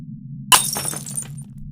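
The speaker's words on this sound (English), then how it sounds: "I was awakened by the sound of breaking glass" Glass shatters in a sudden loud crash that breaks a dead silence, followed by a spray of tinkling, scattering fragments that fade over about a second.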